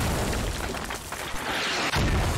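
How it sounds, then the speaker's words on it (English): Distant mortar shells bursting in the video game Squad Ops, heard as a dense, rumbling wash of overlapping blasts with a sharper crack near the end, moderately loud under battlefield noise. "U.S. mortars now pounding this position."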